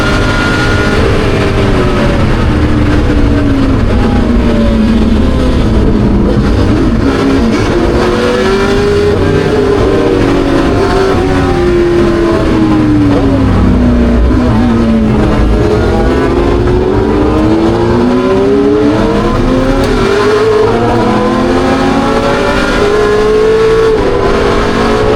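Loud, continuous roar of a Ford GT40 race car engine at Le Mans Classic, pitch climbing and falling through gear changes as it pushes on track near Mulsanne corner, with no talk.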